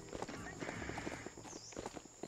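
Hooves of a horse-like mount in the video game Biomutant: quick, rhythmic clip-clop steps at a trot over game ambience, with a player talking over them.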